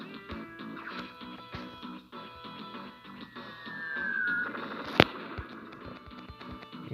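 Explosions from the video game Advance Wars 2, with busy crackling game effects, a rising whistle and one sharp bang near the end, all fairly quiet.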